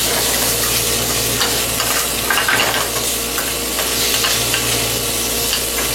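Hash frying in a pan: a loud, steady sizzle and crackle that fills the whole stretch, close up and unbroken, with no talk.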